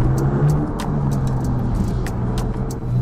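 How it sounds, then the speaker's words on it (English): A Porsche 992 GT3 with a 510-horsepower 4.0-liter flat-six and PDK gearbox runs close by, a loud, steady engine drone with light ticking and clicking over the top. "So it's nice to hear the flat 6 4-liter engine, guys."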